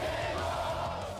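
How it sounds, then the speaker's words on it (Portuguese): Flamengo supporters in Manaus cheer and shout together, a brief, full crowd roar heard at a moderate distance with a steady, festive swell. "A torcida, claro, sempre muito animada em encontrar o Flamengo pertinho."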